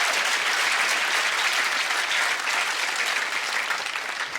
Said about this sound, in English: Big round of applause for Rick.